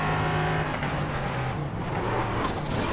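A GT3 race car brakes hard at Circuit Gilles Villeneuve and drops down through the gears, its engine note surging and falling in quick blips. The sound is loud and continuous, with no talk.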